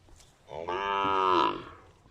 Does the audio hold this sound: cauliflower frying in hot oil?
no